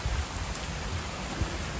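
Monsoon rain falls steadily outdoors among flowering garden plants, a dense, even hiss with no talk.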